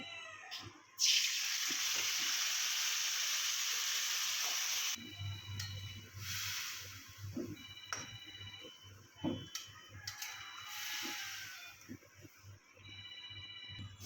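Fish frying in oil seasoned with bay leaf and nigella seeds, a loud steady hiss for a few seconds, then quieter, uneven sizzling broken by clinks and scraping.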